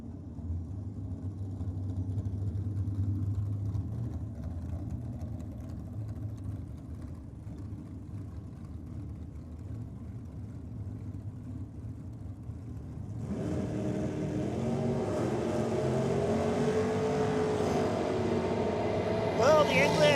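A Ford Anglia with a small block Chev engine drag racing, a low rumble building into a loud, roaring launch and pass, heard beneath an announcer's commentary.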